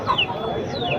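Native country chickens at an open poultry market cluck and squawk in short bursts, with a busy background of people talking.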